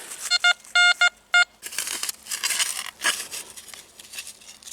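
A metal detector over a buried coin or bottle top gives four loud, sharp electronic tone bursts in quick succession, followed by scraping and crinkling handling noise in the dirt.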